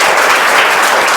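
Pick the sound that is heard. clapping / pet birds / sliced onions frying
clapping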